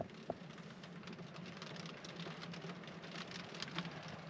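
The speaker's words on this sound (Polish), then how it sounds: "przyszła ta druga fala deszczu" Steady rain pours down on a lake in Kashubia in early spring, a continuous broadband hiss, with occasional louder drops or patters standing out against the even wash of sound.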